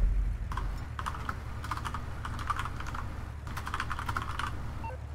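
Computer keyboard typing in quick bursts of clicks during a game stream, close but moderate, over a steady low hum with a short pause midway.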